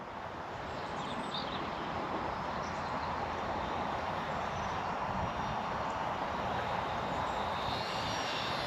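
A VolantexRC Trainstar RC trainer plane flies outdoors, its motor giving a steady, continuous buzzing drone that stays fairly loud and even throughout, with no one speaking.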